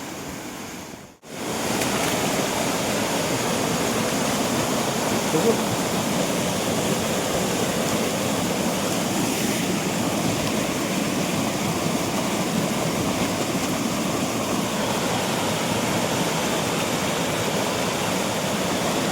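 A fast stream flows at night during crab catching, a loud, steady rushing roar that fills the whole stretch after a brief dropout near the start, with no voices.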